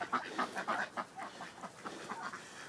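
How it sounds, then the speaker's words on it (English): Ducks quacking in a garden as they move aside, a run of short nasal calls in uneven bursts close by, with no talking. "Here, the ducks are all going to move out of the way."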